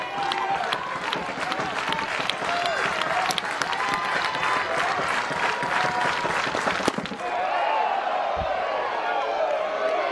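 A crowd of about 1,500 at a softball game cheers and applauds loudly and steadily, a dense roar with scattered claps and whoops that briefly dips near the end before swelling again.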